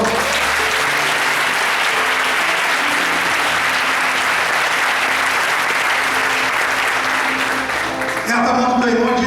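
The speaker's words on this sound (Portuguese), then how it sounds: "Você pode dar um aplauso ao Senhor?" Congregation applauding during an evening church service, sustained dense clapping for about eight seconds with organ or keyboard tones underneath, ending as the music swells.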